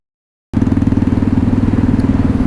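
A Buell Blast motorcycle, rough rat-bike build, starts abruptly after half a second of silence, then runs with a loud, close, steady thumping single-cylinder idle.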